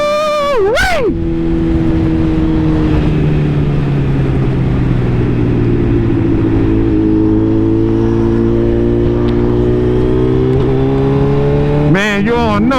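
A Suzuki Hayabusa sport motorcycle engine drones steadily and loudly while riding on a winter road, with rising revs at the start and end.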